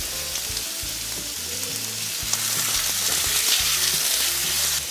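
Chicken sears in olive oil in a pan with a loud, dense, continuous sizzle and crackle that swells slightly partway through. No voices are heard.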